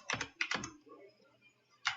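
Computer keyboard typing while writing code, a few loud close clustered keystroke bursts at the start, a short quiet gap, then another burst near the end.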